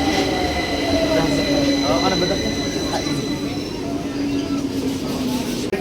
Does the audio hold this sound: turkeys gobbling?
no